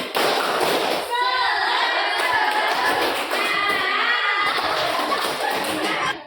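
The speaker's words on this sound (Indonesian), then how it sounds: "Ayo kita mulai. Tepuk semangat." A group of participants performs a rhythmic spirit clap in a coaching session setting, with sharp patterned claps mixed with chanted voices and some talking throughout.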